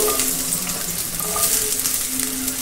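Sliced onions hit hot coconut oil for a mushroom pepper fry, producing a close, continuous sizzle and spatter with faint stirring, no speech over it.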